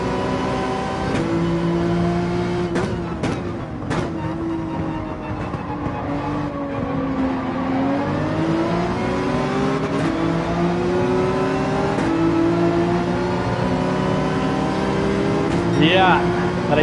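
A Porsche race car in Gran Turismo 7 at Daytona drones at high revs, its pitch rising and falling through shifts, with a few sharp clicks and a voice talking over the engine.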